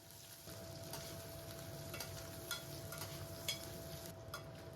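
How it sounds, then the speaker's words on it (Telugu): Dried fish fry in hot oil, giving a steady close sizzle and crackle with occasional stirring pops, and no talking. "నెత్తళ్ళు ఇవైతే వేసుకొని ఫ్రై చేసుకుందాము"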